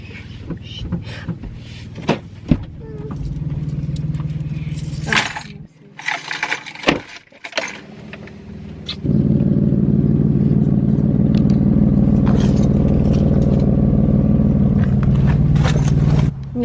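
Keys jangle and a car door and interior clatter with scattered clicks and knocks as someone gets into a slightly faulty car, then a steady low engine hum sets in and continues.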